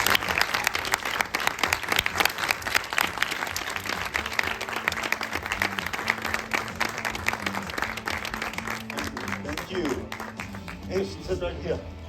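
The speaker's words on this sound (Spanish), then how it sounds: "Un fuerte aplauso para Marcus Nispel." Sustained, dense applause from an audience at a film screening honoring director Marcus Nispel, steady and loud across the whole stretch with crowd voices mixed beneath the clapping.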